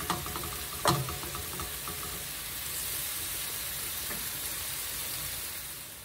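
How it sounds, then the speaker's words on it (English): Shrimp sauté in their own juices in a pan with a soft, even sizzle, broken once near the start by a sharp clink of utensil on metal. "we'll saute this till it turns"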